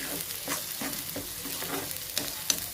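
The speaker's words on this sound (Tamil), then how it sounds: "மசாலா நல்லா வணக்கினாங்க, பச்சை வாசனை போகணும்." Masala fries and is stirred in a pan, a continuous close sizzle broken by repeated scraping strokes of a spoon roughly every half second, with a couple of sharper clinks near the end and no talking.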